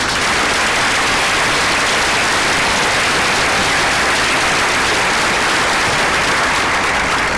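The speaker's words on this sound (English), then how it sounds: "give these kids another nice big round of applause" A graduation audience applauds the graduating class of 2022 at a high school ceremony, a loud, dense wash of clapping that carries on steadily without a break.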